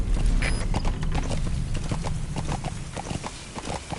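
Rhythmic clip-clop of horse hooves trotting at a steady pace in a video game, fairly close, with a brief high tone near the start.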